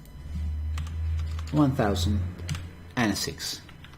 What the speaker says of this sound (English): I'm going to type 1006